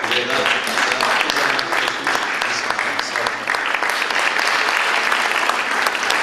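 An audience at a national tourism festival closing ceremony applauds with dense, sustained clapping that fills the hall evenly from start to finish.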